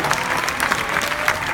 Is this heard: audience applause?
yes